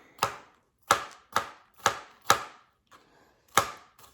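Sharp knife chops on a cutting board cutting bell peppers and onions, six crisp strokes in a steady rhythm with a brief pause before the last, close and fairly loud.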